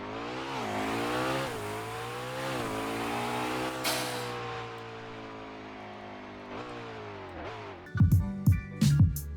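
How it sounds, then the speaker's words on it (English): Engine of a turbocharged car in the Roblox game Driving Empire, a steady droning hum with rising pitch sweeps as the turbo spools, ending in a few sharp bursts near the end. "You can hear the turbo spooling up."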